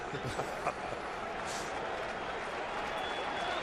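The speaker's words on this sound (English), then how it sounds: "Crowd getting into it." Crowd noise at a 2009 Cleveland Indians baseball game, a steady broad roar from the stands building as the pitcher works an 0-2 count, continuous and fairly distant, with no talk over it.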